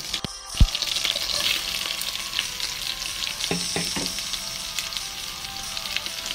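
Onion fries for Gabout Laham in a hot pan, giving a loud, continuous close sizzle, with a sharp knock near the start and a few stirring scrapes partway through, no talking.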